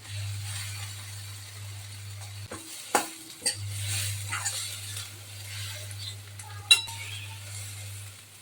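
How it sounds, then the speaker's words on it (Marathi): Leftover spice masala for stuffed tomatoes sizzles in a hot pan as a spatula stirs and scrapes, with a few sharp clinks over a steady low hum. "हा उरलेला मसाला टाकून घेते आणि सर्व छान परतून घेते"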